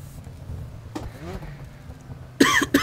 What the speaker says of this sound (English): I'm going to cough, though.